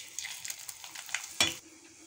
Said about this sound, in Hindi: ये सारे मसाले जो मैंने एक साथ कर दिया है, तो गैस को स्लो रखेंगे और एक साथ इसमें डाल देते हैं